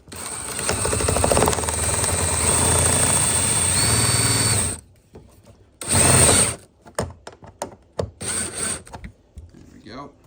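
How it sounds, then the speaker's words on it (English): A power driver runs a self-tapping screw into a Chevy Cruze near the license plate light, a loud whirring burst followed by shorter bursts and clicks, close up. "I'm just gonna grab that self-tapping screw, line it up."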